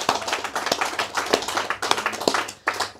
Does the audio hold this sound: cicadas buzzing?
no